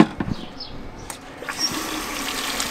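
Ordinary tap water poured and splashed into a large mixing container for a homemade garden insect repellent, giving uneven gurgles, drips and a rising rush of running water.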